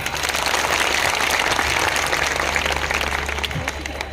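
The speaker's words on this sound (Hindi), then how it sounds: "मैं चाहूंगा एक बार उज्जैनी स्टाइल में आप अपने लिए एक बार जोरदार ताली" Hall full of people at a direct-selling network marketing meeting giving loud applause, a dense steady wash of clapping that fades slightly toward the end, with a low hum beneath.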